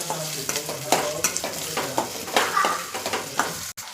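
Potato stirred into hot oil in a pan over raised heat for sabudana khichdi, with loud sizzling and quick repeated spatula scrapes ending abruptly.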